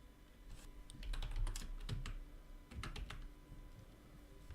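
Typing on a computer keyboard while writing JavaScript code, a quiet run of close key clicks in irregular clusters with short pauses, no voices.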